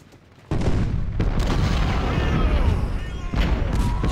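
Artillery and rifle fire in the Ultimate General: Civil War game: a sudden loud boom opens a dense, sustained rumble of overlapping shots and blasts that continues to the end.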